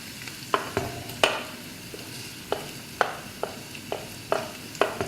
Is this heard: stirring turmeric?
yes